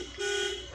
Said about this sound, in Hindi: ये हॉर्न होता है गाड़ी का।